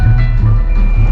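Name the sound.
car radio playing in a 780 car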